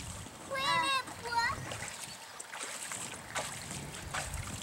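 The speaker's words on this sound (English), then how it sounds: "Are you splashing?" Children splash and play in a backyard pool, with bursts of water sloshing and a voice chirping over light wind noise on the microphone.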